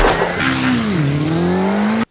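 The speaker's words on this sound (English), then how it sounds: "We rented a race car and goddammit, we're gonna use it." A rented race car in a horror-comedy film scene revs loudly as its tires squeal, the engine pitch dipping then climbing in a sustained whine before cutting off abruptly.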